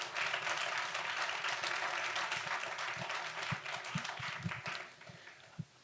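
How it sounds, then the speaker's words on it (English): An evening speech showcase audience applauds a speaker with a fairly quiet, steady wash of clapping that gradually fades, leaving a few scattered claps and light footfalls near the end. "Let's give him a round of applause, please."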